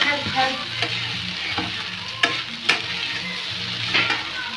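Poha stirred in a frying pan, a soft sizzle running throughout, with a spoon scraping and knocking against the pan at a few sharp moments, close by.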